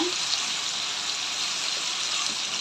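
Tomatoes sauté in oil in a pan for Tamil fish curry, a steady broadband hiss of frying that stays even throughout, close and fairly loud with no voices.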